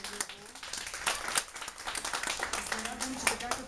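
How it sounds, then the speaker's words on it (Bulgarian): Scattered audience clapping at a Bulgarian theatre school gathering, uneven bursts of hands of varying loudness, mixed with people talking over and around the claps. "Аплодисменти за Матери Ниво."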